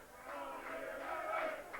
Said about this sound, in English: A very, very large and noisy crowd gathering here at Post Office Road, Featherstone, for this game